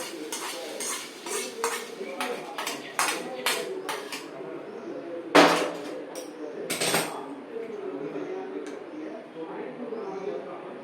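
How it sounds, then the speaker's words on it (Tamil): Roasted coconut tipped into a pot of walnut cashew Mappilai samba rice payasam, with repeated metal spoon clinks and scrapes against the pot and one sharper clatter midway, close and moderately loud. "இப்போ நம்ம தேங்காய் நல்லா வறுபட்டு எடுத்து அதையும் இதில் போட்டு விடணும்"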